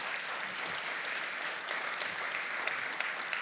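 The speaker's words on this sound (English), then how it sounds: "you can clap for that" Audience applause at a fireside chat podcast taping, dense and steady clapping from a crowd throughout, loud and continuous with no one talking over it.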